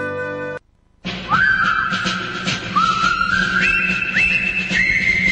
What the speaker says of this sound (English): Hey, I'm whistling.